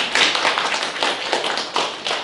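A church congregation at a Sunday service applauds in brief, dense bursts of clapping, close and steady for a couple of seconds.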